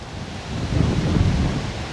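Strong wind gusts across a backyard lawn where a robot mower is mapping, a loud, rumbling buffeting that swells midway and buries everything else, with no voices.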